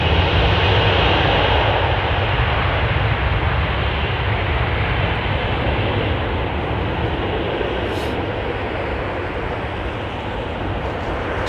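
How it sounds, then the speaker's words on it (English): Etihad Airbus A330neo coming in to land at London Heathrow in heavy snow, a loud, steady broadband engine roar that fills the whole stretch and eases only slightly toward the end. "Etihad going A330-neo as well."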